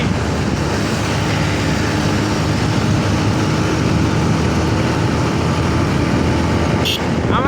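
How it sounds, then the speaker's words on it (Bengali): A motorcycle riding fast on the Dhaka elevated expressway, a loud continuous roar of engine and rushing wind at high speed, steady throughout without pause. "সেই এক্সপ্রেসওয়েতে আমরা দুই চাকার বাহন নিয়ে স্বাধীনভাবে ঘুরে বেড়াচ্ছি"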